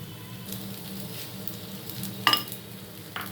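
Rice tossed into a pan of fried spices for orange pulao gives a soft, steady sizzle with light stirring scrapes and a couple of sharp utensil clinks.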